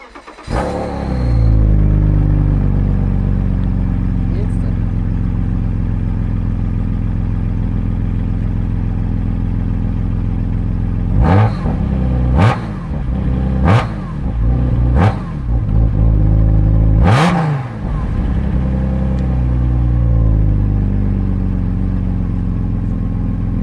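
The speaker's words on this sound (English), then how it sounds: "right now I'll do a little cold start for you to see what it's like when I first start" BMW E36 M3 engine cold-starting with a cranking catch, then settling into a loud steady idle, followed by several sharp throttle blips and revs rising and dropping back, close and clear with no talking.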